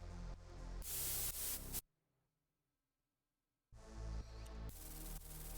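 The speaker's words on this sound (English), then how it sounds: "we have an automation clip for the volume here for this white noise lead here, white noise layer" A dense, hissing white noise layer rides on top of loud electronic music, drops out to near silence for a couple of seconds, then returns.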